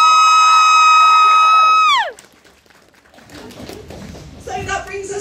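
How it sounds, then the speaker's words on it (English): Audience applause and cheering at the AnimangaPop Plymouth 2024 cosplay competition break out after a long, steady electronic tone stops, building to moderate loudness with voices calling out over the crowd. "if we could have a massive round of applause for you"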